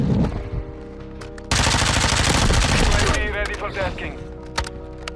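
Video game gunfire from Modern Warfare 2: a loud burst-fire weapon lets off quick three-round volleys in close succession, with dense sharp cracks, a few isolated shots and brief pauses between.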